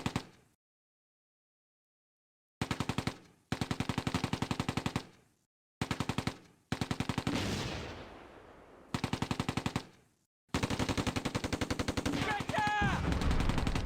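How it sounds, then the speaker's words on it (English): A 17pdr anti-tank gun fires in a war video game amid repeated rapid bursts of gunfire, with loud bursts separated by silent gaps, one heavier blast with a decaying rumble, and a long sustained burst at the end. "The gun gets the first shot."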